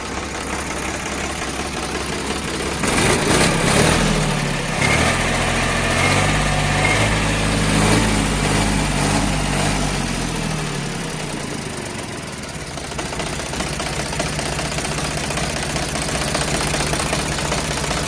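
A Sonalika DI 42 RX tractor's diesel engine idles close by, a steady low knocking rumble with a brief rise in revs partway through before settling back to a constant throb.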